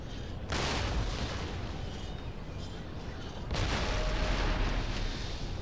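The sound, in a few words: gunfire from troops in video game Empire: Total War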